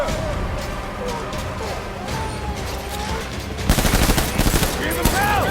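Gunfire in the video game Death Stranding breaks out as rapid automatic bursts, near and loud, after a stretch of quieter ambience with voices talking throughout.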